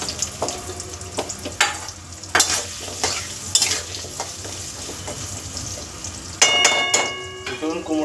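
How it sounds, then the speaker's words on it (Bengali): Pumpkin frying in hot oil in a pan, with repeated stirring scrapes and metallic clangs of a utensil against the pan over a low sizzle, and a brief ringing ding near the end. "এবার ওই তেলে এই কুমড়োটা ভেজে নেব"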